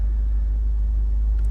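A Jaguar F-Type P300 idles with its active exhaust open in dynamic mode, a steady low rumble close by that holds even for the whole moment, no revving and no voices.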